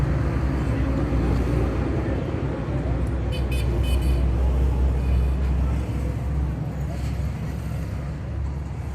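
A Suzuki Margalla car with CNG and petrol fittings idles steadily up close, its engine giving a continuous low rumble throughout with faint background noise.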